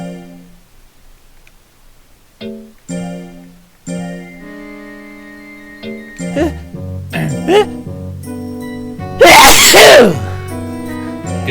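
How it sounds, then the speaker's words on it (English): A single loud sneeze bursts out near the end after a sequence of chiming, tinkling game jingles and musical tones in Monster Rancher DX, with the sneeze dominating briefly before the music continues. "One of those sneezes that make your eyeballs hurt?"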